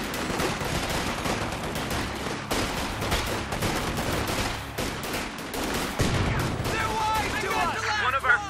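Gunfire in the Company of Heroes 2 video game: dense, sustained bursts of rifle and machine-gun fire with sharp cracks and a heavy blast near the end, mixed with shouted soldier voices throughout.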